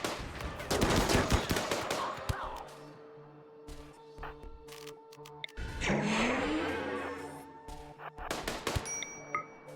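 Rapid bursts of gunfire in a Destiny-style shooter, sharp cracks and machine-gun rattles clustered at the start and again near the end, with a whooshing vehicle-like sweep in the middle.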